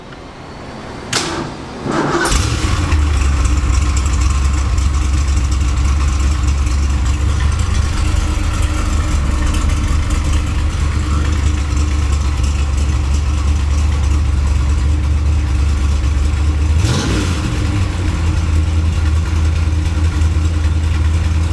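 A Shelby Cobra idles at a car expo in Japan, its deep engine rumble starting after a brief thump and holding steady and loud, with a second short clunk near the end.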